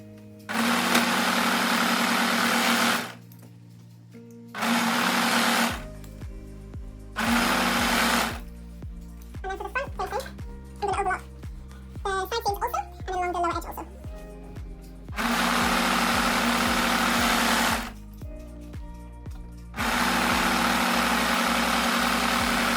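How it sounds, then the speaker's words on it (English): An overlocker serging the side seam and curved lower edge of a dress back facing, running in several loud sustained bursts with pauses, and a voice speaking between runs. "I'm going to overlock the side seam and then along the lower edge"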